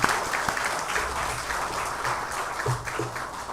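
Audience in a Hanyang University chapel service applauds the worship team after their offering song, a sustained wash of many hands clapping with no talk.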